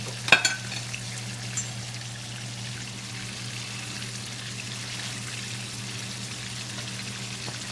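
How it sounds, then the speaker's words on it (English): Deer burger patties frying in olive oil in a pan make a constant soft sizzle. A couple of sharp utensil clacks near the start ring over a low steady hum, and nobody speaks. "See, we got the meat cooking."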